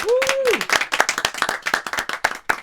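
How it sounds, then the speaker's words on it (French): A small group of people claps during a live stream, a brief whistled or voiced sweep opening the burst of steady hand clapping close by. "On peut applaudir le chat."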